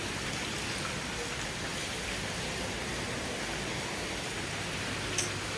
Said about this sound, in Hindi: बारिश हो रही है रात के 12 बजे और मज़ा आ रहा है ये देखकर। कितना पानी